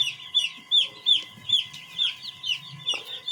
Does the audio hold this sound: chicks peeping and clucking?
yes